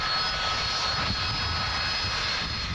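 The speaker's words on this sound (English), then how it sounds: "I can certainly hear what does sound like an old Warbird that just took off from East Mids Airport" An old warbird airplane taking off from East Midlands Airport, heard as a steady, distant broadband engine roar that holds level throughout.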